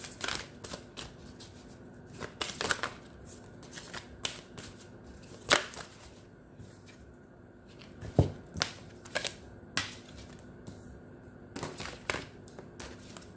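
Tarot cards being shuffled by hand during a reading, soft papery riffles and slaps in irregular bursts, close and fairly quiet, with no talk.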